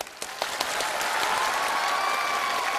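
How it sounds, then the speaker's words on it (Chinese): A studio audience at a televised challenge show breaks into applause, the clapping swelling quickly into a steady, dense roar that fills the room. "现在我们先把掌声给他们。"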